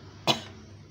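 A single short, sharp cough from one person nearby, heard once against a quiet background.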